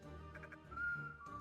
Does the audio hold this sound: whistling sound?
yes